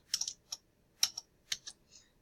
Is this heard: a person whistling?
no